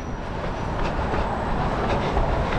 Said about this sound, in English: they got overhead cable electric buses here